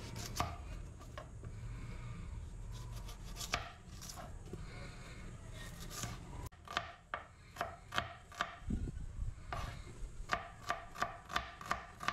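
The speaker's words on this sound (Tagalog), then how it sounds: "Durugin muna natin para mabilis matanggal sa kanyang shell" A giant mud crab's shell crushed in a kitchen, first heard as a scraping rub, then a run of sharp, close cracking knocks that come faster and louder toward the end.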